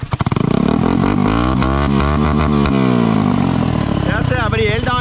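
A kart cross engine with a poorly tuned carburetor runs loud and close, its uneven revving pitch wavering and rising, with a brief stuttering burst near the end.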